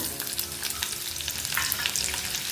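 Onion pieces frying in hot oil after the tempering spices for a hotel-style tiffin sambar, a steady dense sizzle with faint stirring scrapes throughout, close and continuous with no voices.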